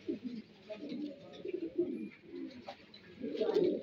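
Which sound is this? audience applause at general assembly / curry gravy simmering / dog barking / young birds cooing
young birds cooing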